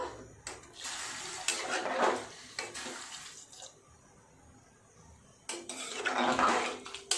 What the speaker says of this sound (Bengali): পরিমাণ মতো জল ঢেলে দেবো। আর একটু জল দিয়ে দেব।